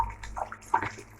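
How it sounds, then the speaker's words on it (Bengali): Water is poured into a pot of thin curry in a home kitchen, a brief soft splashing gurgle heard up close and alone. "এবার দিয়ে দেবো জল"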